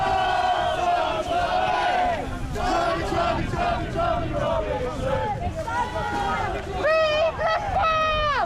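A large, loud crowd at Speakers Corner in Hyde Park, London, shouts and chants in overlapping voices throughout, with rising cries and wind buffeting the microphone.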